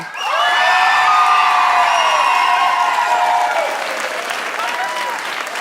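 A crowd applauds and cheers loudly at the Slovenska nota 2017 song contest final, with whoops and shouts over clapping that gradually eases off toward the end.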